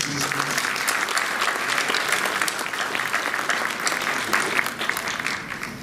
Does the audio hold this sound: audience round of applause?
yes